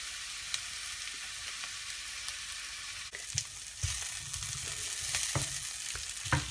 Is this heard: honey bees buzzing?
no